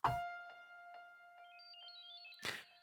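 A Nexus synth piano using the Robert's Dream preset sounds one struck note held out, with a steady bell-like tone and shimmering effect tails that step upward, then a brief thump near the end.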